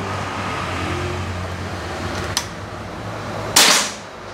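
A Bocap Hacker 500cc double-tube PCP air rifle fires: a faint click, then about a second later one loud, sharp report with a short fading tail, heard alone and close.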